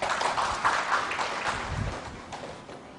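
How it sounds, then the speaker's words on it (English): A brief round of audience applause in a lecture hall during a talk on Indian engineering graduates and industry recruitment, a soft patter of claps fading away within a few seconds. "we will clap for ourselves here."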